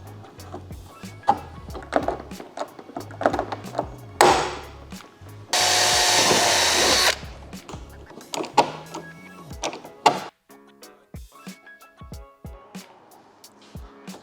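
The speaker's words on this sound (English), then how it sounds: "Then you grab a drill and we'll make some holes." Power drill boring rivet holes through a two-piece car body kit, heard as a short steady high whine lasting a couple of seconds amid scattered tapping and handling knocks, close and fairly loud.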